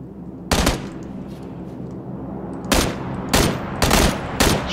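Bursts of rapid automatic gunfire in the battle royale game PUBG, a short volley followed by several more loud bursts with a steady background hum between them.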